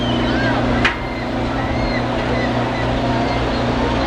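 Steady engine-like drone of a cable-pulled boat ride at Disney's Magic Kingdom in 1990, played as an effect. The rumble holds constant and fairly loud, broken by one brief sharp click.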